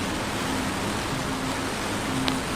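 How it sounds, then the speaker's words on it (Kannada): A dense, steady hiss of heavy monsoon rain on a road ride in Coorg toward Madikeri fills the scene, with a low engine-like hum underneath and no voices. "ಇಲ್ಲಿ ಮಳೆ ಜೋರಾಗಿ ಉಂಟು ಈಗ ಹೋಗುವಾಗ"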